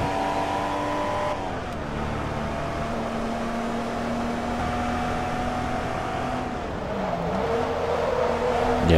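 In Forza Motorsport 2, a Porsche 914/6 race car engine runs at full throttle with a sustained, fairly loud whine that drops in pitch at two gear changes.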